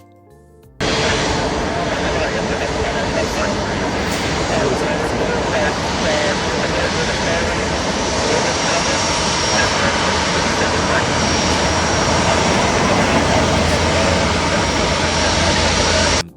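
Delta Airbus A350 jet rolling around a taxiway corner at an airport, a loud sustained engine roar and rumble that starts abruptly and holds steady throughout.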